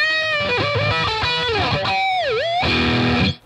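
Charvel Pro-Mod So-Cal electric guitar with Floyd Rose 1000 tremolo played through a Boss Katana Artist amp, a loud distorted lead phrase with quick bends and a dive-bomb whammy swoop before a final sustained chord cuts off.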